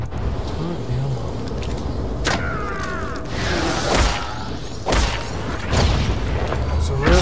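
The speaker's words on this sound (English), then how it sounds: "It's got way too much background noise. I know it's supposed to be machinery and everything" Industrial machinery ambience in Star Wars: The Old Republic hums steadily beneath a voice, broken by several deep booms and mechanical clanks spread across the stretch.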